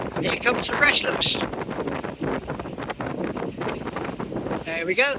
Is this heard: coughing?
no